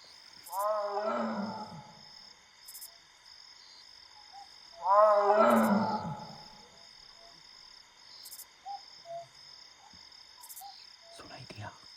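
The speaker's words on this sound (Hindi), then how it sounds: "ये टाइगर की हाउलिंग की आवाज है।" Two deep, rasping roar calls from a tiger in Jim Corbett forest during monsoon, each lasting about a second and a half, with steady insect buzz and faint clicks behind them.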